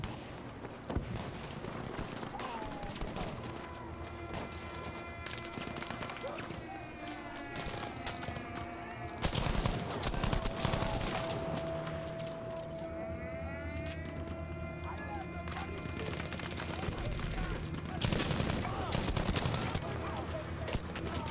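Bursts of MG34 machine gun fire in Battlefield V mixed into busy game audio, with explosions and battlefield noise running throughout while a player talks over it.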